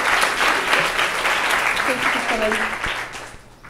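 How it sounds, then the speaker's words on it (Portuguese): Audience applause following a Portuguese-language talk about journalist Sílvio Melatti, a steady mass of clapping that fades toward the end, with voices speaking through it. "Palmas."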